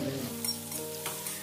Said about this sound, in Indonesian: Nah sekarang saya goreng cabai, bawang merah, terasi dulu, terus tambahin tomat juga.